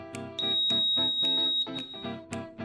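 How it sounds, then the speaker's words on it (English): A LoudMouth monitor alarm for a damaged floor heating wire sounds a loud, piercing electronic tone in rapid repeated pulses, close by and with no voices. "the loudmouth will sound an audible alarm."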